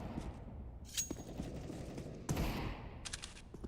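Gunfire during a competitive shooter match in the MCM Pro League. Two fairly quiet, brief bursts of shots sound about a second apart over low background noise.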